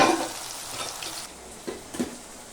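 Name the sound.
onions and tomatoes sautéing in a pan for fish curry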